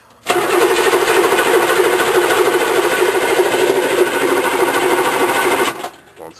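A small glow-plug model engine being cranked over without starting: a steady, loud buzzing whir that runs continuously for about five and a half seconds and then cuts off.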